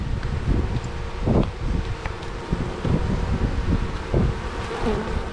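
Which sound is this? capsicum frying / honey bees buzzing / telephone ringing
honey bees buzzing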